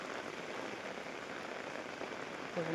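Steady rain falling in an outdoor park, a soft, even hiss of drops on surfaces that continues without break, faint and distant, with no voices.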